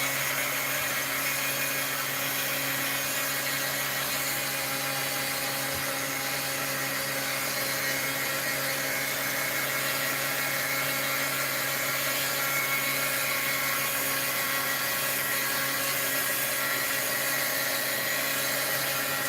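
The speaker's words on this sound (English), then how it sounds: "I do have the fan on because it's really hot here." Electric fan running in a hot room, a continuous steady whir with faint hum and no variation, alone and unbroken throughout.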